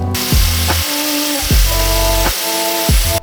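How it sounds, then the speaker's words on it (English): Power tool working on a Honda CB400 motorcycle fork seal repair, three separate bursts, each winding up then dropping in pitch, close and loud, with brief pauses between and no voices. "Just grind it a bit more."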